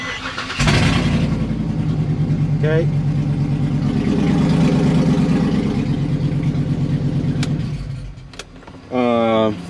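An Isuzu truck with suspected leaking exhaust headers cranks and fires, then idles with a loud, raspy, ticking exhaust drone for several seconds; someone speaks briefly and another engine-like burst rises at the end.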